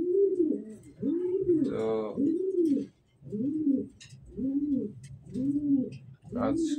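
A female pigeon kept at home coos close by in a rhythmic series of about seven soft, throaty calls with short pauses between them, and a voice briefly speaks among the calls.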